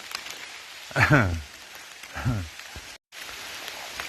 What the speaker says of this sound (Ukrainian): А дощ стає усе сильніший